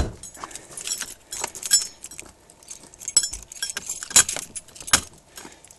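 A bunch of keys jangles and clinks close by as it is handed over, in a string of irregular metallic rattles with sharper chinks toward the end.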